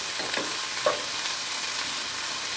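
Onions sautéing in a pan over medium heat for pumpkin soup, giving a soft, even sizzle with a couple of brief stirring scrapes, fairly faint and steady throughout.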